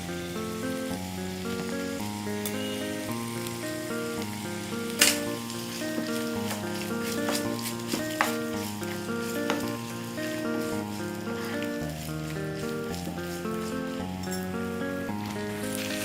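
Sliced onions and long-cut chillies frying in a pan for a spicy brinjal gravy, a continuous close sizzle with a few sharper crackles, steady throughout with background music and no talking.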